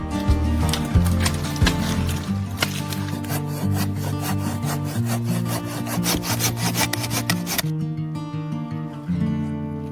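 Deadwood timber is sawn to uniform lengths in a forest, with a close, rhythmic back-and-forth rasp of a saw through wood that keeps going for several seconds before ending.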